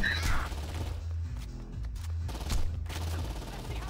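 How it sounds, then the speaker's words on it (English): Gunfire in the Saints Row 2 video game, with scattered shots and bursts over a steady low rumble of game sound, moderately loud throughout. "Stop getting shot."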